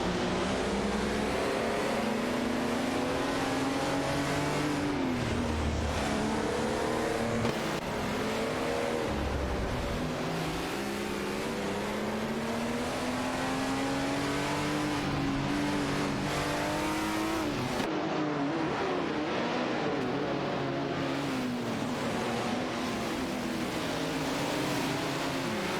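Lola T280 and Porsche 936 race cars in a video game race, engines droning and revving continuously with rising and falling pitch as they shift gears, loud and close throughout, with brief tire squeal.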